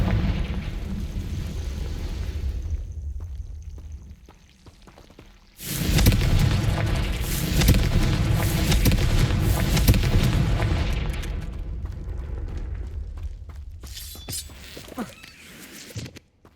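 A loud booming explosion from the Confringo fire spell in the Hogwarts Legacy video game, bursting in suddenly after a quieter stretch and rumbling heavily for several seconds before trailing off into scattered cracks.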